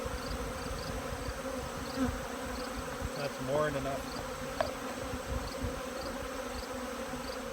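Honey bees buzz in a steady, dense drone around an open hive during a September inspection, with a short spoken phrase and a few faint handling sounds over the hum.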